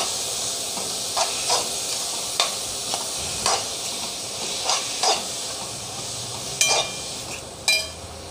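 Radish frying in a pan gives a steady hissing sizzle throughout, broken by repeated short clinks and scrapes of stirring at an irregular rhythm, close and fairly loud, with no talk.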